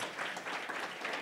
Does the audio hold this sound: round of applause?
yes